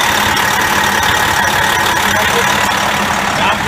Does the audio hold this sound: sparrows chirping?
no